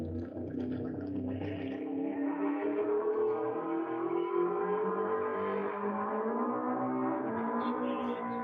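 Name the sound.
E Street Roadster race car launching off the line at Bonneville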